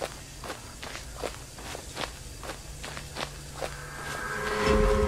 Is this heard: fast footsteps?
yes